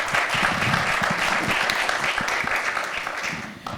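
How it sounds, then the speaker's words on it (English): An audience at a forensic conference session claps steadily in a dense, sustained round of applause that tapers off slightly at the end. "So could we have a round of applause for"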